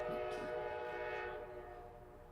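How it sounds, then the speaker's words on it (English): A train passes during an outdoor gathering at a Black cemetery, its horn sounding as a steady, loud chord of stacked tones that holds throughout and slowly fades, with rumble underneath and no talk. "if the train will let me"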